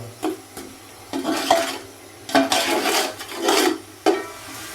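Spice masala being stirred and fried in a pan, with intermittent scraping strokes and a soft sizzle in bursts, close and moderately loud, no talk.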